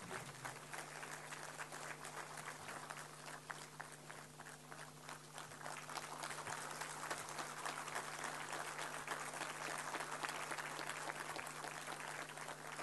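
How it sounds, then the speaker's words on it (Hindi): Applause from an audience at a formal government ceremony in India, marking an exchange of memoranda of understanding; steady, moderately loud clapping that swells slightly toward the end and carries on for about thirteen seconds under a constant low hum. "जोरदार तालियों से इस पल का स्वागत करें।"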